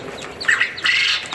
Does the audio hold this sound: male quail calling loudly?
yes